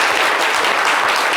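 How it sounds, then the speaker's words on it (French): An audience at a live event applauds, a loud, dense and steady burst of many hands clapping close by that lasts the whole short stretch with no voices on top. "Applaudissez pour vous-même"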